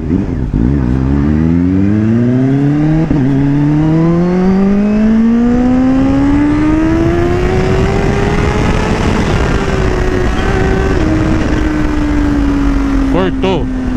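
A Kawasaki Ninja H2 engine revs up through the gears toward top speed, its whine climbing steadily and loud, dipping at one shift, then holding a high sustained pitch before easing slightly near the end, with wind roar throughout.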